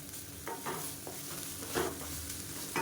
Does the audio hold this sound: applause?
no